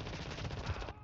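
Gunfire in Call of Duty Modern Warfare 2 forms a rapid automatic burst of closely spaced shots, loud and dense for about a second before cutting off.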